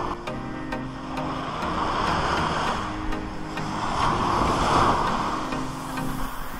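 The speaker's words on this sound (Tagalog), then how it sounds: "Yan ang lalakas ng alon dito." Heavy surf rolls and crashes in long surges on Dulangan Beach, Puerto Galera, a broad roaring wash rising and falling twice, with some wind buffeting the microphone.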